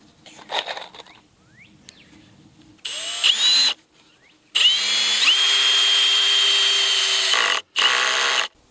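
A power drill drives screws into a wooden gate for a bee yard in three bursts of whining motor that rises in pitch, with one short and one long run and quiet handling noises in between.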